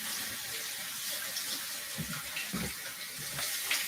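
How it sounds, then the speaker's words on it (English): Water runs from a tap into a container in a kitchen, a steady, soft broadband rush that holds evenly for several seconds with faint low splashes underneath, moderately close and without any talking. "I gotta fill this up with water"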